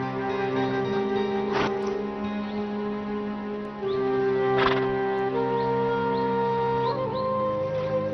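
Yakutian horses in a harsh Siberian winter: a couple of whinnies and snorts rise over a steady tonal musical backdrop, with no speech during the clip.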